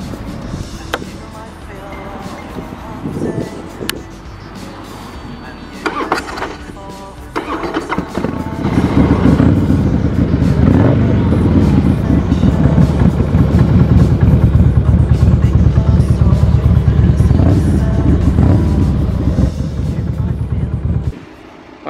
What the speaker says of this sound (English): I really shouldn't test drive Harleys.